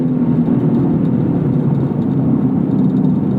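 A track-prepped Lexus IS F sport sedan engine holds a loud, steady, droning roar near redline, a continuous low growl with no pauses and no voices.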